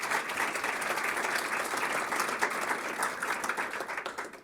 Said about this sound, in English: So we'll have a round of applause in their absence